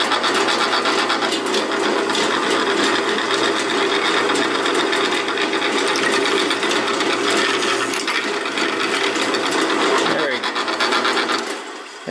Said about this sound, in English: this drill press we're using came from the house that I grew up in